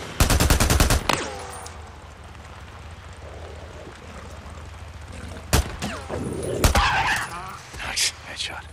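Days Gone gameplay gunfire: a loud rapid burst of shots at the start, then after a quieter lull several single sharp gunshots crack out one by one, with some speech alongside.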